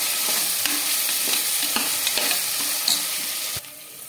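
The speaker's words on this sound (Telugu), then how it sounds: "ఇప్పుడు బఠానీలు కూడా బాగా ఫ్రై అయిపోయి" Soaked peas frying in a pan with a spice paste, a steady close sizzle with a few light spatula scrapes, dropping off sharply near the end.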